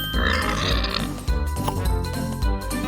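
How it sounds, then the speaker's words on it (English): A pig from a cute animal matching puzzle game grunts and oinks a few times, close and loud, over cheerful background music. "This is a pig."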